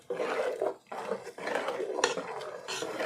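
Vegetable kurma mixed with ground coconut paste and water, close scraping and clinking of a spoon against a metal pot in repeated uneven strokes, fairly quiet, with no talking.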